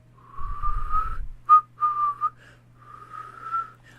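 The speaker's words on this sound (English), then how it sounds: "I don't know how to whistle innocently." A game character in The Darkside Detective whistles a wavering tune in several short phrases over about four seconds, with a low rumble at the start and a steady faint hum underneath.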